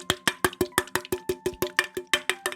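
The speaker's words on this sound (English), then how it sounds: "I have 2 soda cans here. It sounds like this kind of." Two soda cans knocked together over and over in a steady, quick rhythm of about five metallic clinks per second. The clinks are close and bright, with no talking.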